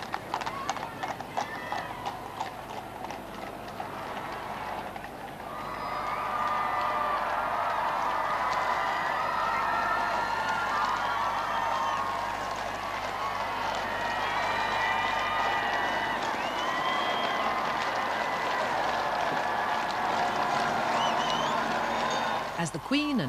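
Outdoor crowd noise at a royal wedding procession in London, a sustained roar of cheering and applause with horses' hooves clip-clopping along the route and a voice speaking over it.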